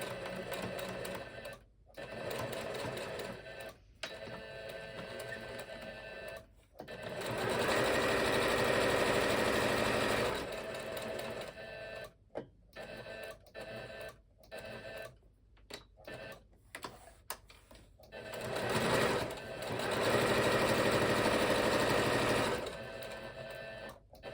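A sewing machine stitches around the edge of a fabric coaster in steady bursts, running loud and close, with short pauses between runs and a few quiet stops.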